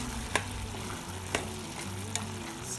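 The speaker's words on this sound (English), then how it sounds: "Let's give it a good stir." Mung dal curry gets stirred in a pot, soft scraping strokes roughly once a second over a quiet simmering bubble, close and fairly faint.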